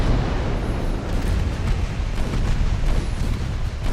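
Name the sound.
battleship gunfire and shell explosions in naval video game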